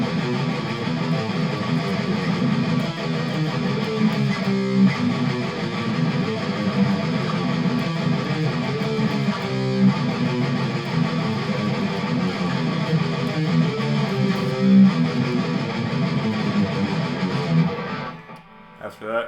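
Electric guitar playing the descending fretted chords of a song intro, a dense distorted strumming that runs steadily and loud for about eighteen seconds, then stops abruptly.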